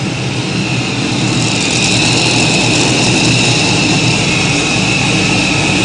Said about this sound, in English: Tough running tractor, and if you haven't got earplugs yet, use your fingers, folks.